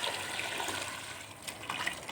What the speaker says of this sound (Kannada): ಈಗ ನೀರು ಇಟ್ಕೊಂಡಿದ್ದೀನಲ್ಲ ಕಾಯೋದಕ್ಕೆ ಅದನ್ನ ಹಾಕೋಣ